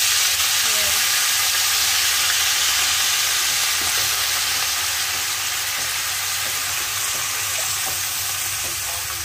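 Mustard greens mixed with nettle fry in a pan with a loud, steady, dense sizzle that holds without a break.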